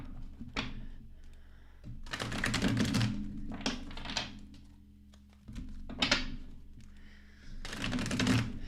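A tarot card deck being shuffled up close, with repeated bursts of crisp, flapping card riffles separated by short quieter gaps.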